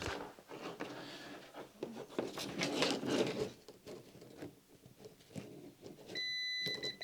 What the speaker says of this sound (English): use my multimeter on the continuity settings with a beep